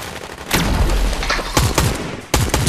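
Dense bursts of gunfire in the video game Fortnite, loud and close, with rapid volleys repeating several times and no talk over them.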